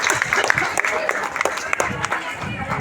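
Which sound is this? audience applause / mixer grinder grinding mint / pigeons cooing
audience applause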